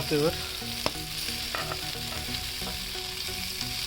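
Oysters frying in a pan for a Konkan oyster kalva: a close, continuous crackling sizzle with a few brief pops and stirring clinks, no talking.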